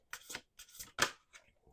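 Several quick riffling bursts of paper cards being shuffled, close and fairly quiet, with brief pauses between them.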